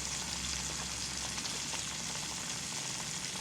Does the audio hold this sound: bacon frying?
yes